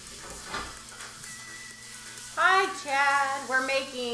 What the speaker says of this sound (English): We want to sear it nice and good.